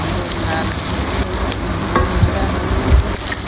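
Shrimp frying in a pan and being pressed and stirred with a spatula, loud continuous sizzling with occasional scraping knocks against the pan.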